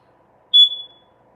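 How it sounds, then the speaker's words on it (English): A single short, high electronic chirp from an indoor fire alarm, sharp and clear against a quiet room, fading quickly. "that's the fire alarm"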